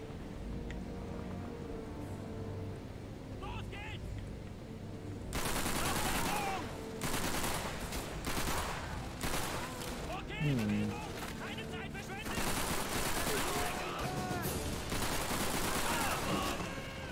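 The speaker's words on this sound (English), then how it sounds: "He's shooting me from over here." Gunfire in Call of Duty 3 erupts after a quieter stretch of background battle ambience, then keeps going as heavy overlapping volleys and rapid bursts with short pauses between them.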